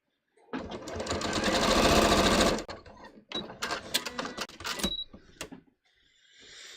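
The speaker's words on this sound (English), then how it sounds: "I'm going to top stitch the folded edge in place" A sewing machine top stitches the folded edge of a bias-cut striped scoop-neck top, running in a steady loud burst for about two seconds. Softer, intermittent stitching and handling noises follow, with a short pause.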